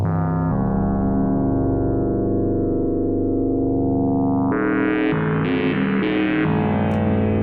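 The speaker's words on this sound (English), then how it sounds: "this is a new oscillator from them called Pizza" The Pizza oscillator synth module plays a sustained, distorted and harmonically rich tone, shifting between chord-like pitches and growing brighter and buzzier in its second half, steady and alone.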